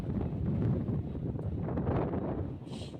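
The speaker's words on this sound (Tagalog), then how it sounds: "Lakas ng hangin." Strong wind roars steadily across the microphone in a dense low rumble, with no voices.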